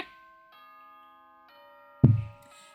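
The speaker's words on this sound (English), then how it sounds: "Ding dong bing bong!" Ding-dong chime in Danganronpa 2: sustained bell-like tones ring out and decay, with fresh tones entering twice, followed by a sudden low thud near the end.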